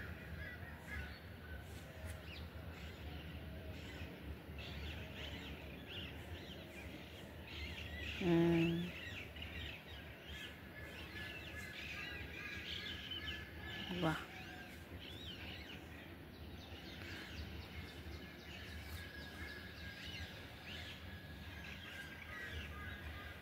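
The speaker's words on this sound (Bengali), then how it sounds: "পাখিদের চিৎকার" Birds calling in the morning, heard from a rooftop: scattered crow-like caws and chirps over a faint outdoor background, with a brief spoken exclamation partway through.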